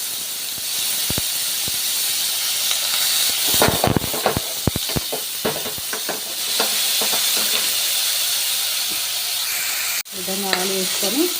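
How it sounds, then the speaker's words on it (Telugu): Potatoes frying in oil in a pan for palak aloo rice, a steady loud sizzle broken by scattered crackles and pops, with a sharp metallic clatter of stirring near the end. "మంచిగా క్రిస్పీ వచ్చేటట్టుగా, మరీ ఎక్కువ కాదు, మంచిగా వేగేటట్టుగా వేయించుకోవాలన్నమాట."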